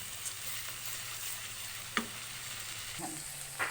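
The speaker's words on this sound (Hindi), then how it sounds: "अच्छा देखिए बेहतरीन मसाला भुन चुका है।" Masala and chillies fry in a pan for sarson ka saag, a steady soft sizzle with a few small stirring clicks and scrapes, close but quiet, no talk.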